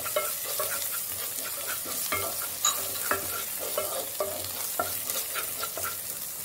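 Turmeric being stirred into a frying mixture in a pan for instant flavored rice, a constant hiss and sizzle with repeated scraping strokes of the spoon at a steady rhythm, close and alone.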